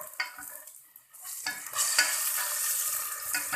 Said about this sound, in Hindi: अब इनको ऑयल डालकर फिर भूनेंगे